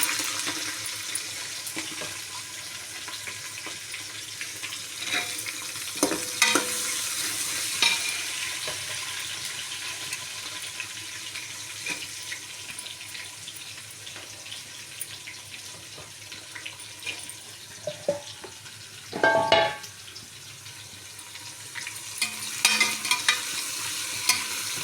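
Onions and green chillies sauté in a pan, giving a steady low sizzle with scraping stir strokes and occasional louder clatters near the end. There is no talk.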